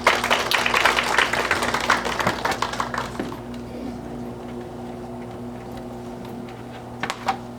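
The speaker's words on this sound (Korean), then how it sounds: "큰 박수 부탁드리겠습니다." Audience applause at an education policy forum in a hall: dense clapping for about three seconds, then fading to a low room hum with a few stray claps near the end.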